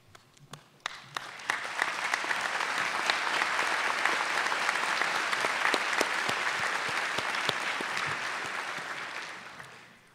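A university inauguration audience breaks into applause, starting with scattered individual claps, swelling into a full steady roar of many hands, then fading toward the end.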